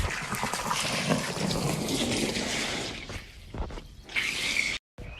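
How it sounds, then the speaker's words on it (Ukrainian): Water pours steadily into a backyard paddling pool on a hot day, a continuous near splashing rush that thins and gurgles toward the end with a brief cut to silence. "Тут водичка тече така не дуже тепла"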